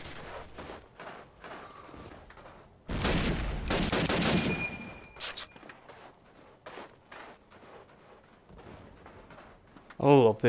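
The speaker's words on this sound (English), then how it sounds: "I love the M1 Grand in this game. It sounds so good. Such a nostalgic sound." M1 Garand rifle fire in Call of Duty: United Offensive multiplayer on the Foy map: a loud burst of shots, a metallic ping, then scattered distant battle gunfire and footsteps, while a player talks throughout.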